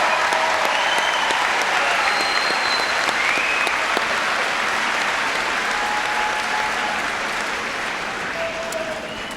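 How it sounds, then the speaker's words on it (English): A junior high graduation crowd applauds the school band after its performance, a sustained wash of many clapping hands that stays loud and slowly tapers over several seconds. "join me in a well-deserved round of applause for our band for their performance tonight"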